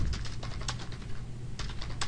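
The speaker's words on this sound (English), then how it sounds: "you can type that in here" Typing on a computer keyboard while entering text into a support ticket form, a quick run of light key clicks, fairly close and steady, with no voice.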